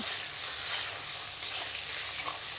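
Eggplant with turmeric fries in a pan, giving a steady soft sizzle with occasional light stirring scrapes, close but fairly quiet.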